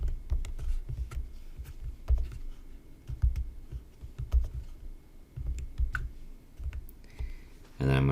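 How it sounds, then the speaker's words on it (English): Fingers tap out an app key on an iPad touchscreen in a quick, irregular run of soft close taps, with a brief louder knock at the end. "I'm going to go over to my iPad, and I'm going to type in this app key"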